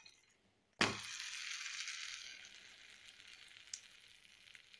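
A bread omelette flipped in a pan, a sharp hiss erupting right after the turn and then settling into a steady, gradually fading sizzle, with a small clink near the end.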